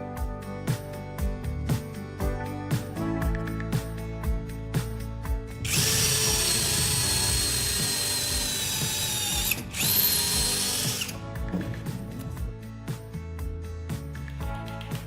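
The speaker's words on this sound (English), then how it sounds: "Tired of your drill bit slipping on round wood?" A power drill bores into round wood in a loud, steady whine for several seconds, briefly pausing once before spinning up again, with softer mechanical clicks around it.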